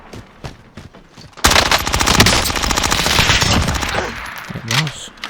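An MP5 submachine gun fires a long sustained burst in Call of Duty Warzone, loud rapid automatic shots following a few scattered earlier single reports.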